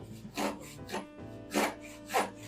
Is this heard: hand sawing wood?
yes